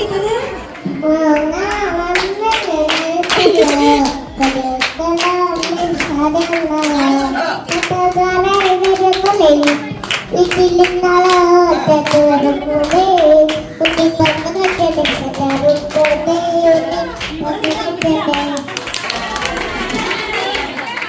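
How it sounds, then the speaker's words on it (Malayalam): Family members at an Onam celebration game clap their hands in a steady run beneath loud, continuous singing and chanting voices, with children and adults joining in close by. "കൈയടിക്ക് കുക്കു, കൈയടിക്ക്"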